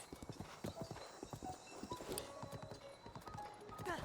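Steady clip-clop of a horse's hooves in Zelda: Breath of the Wild, ridden at night near a bridge, a close rhythmic beat with faint background game sounds and a brief whinny.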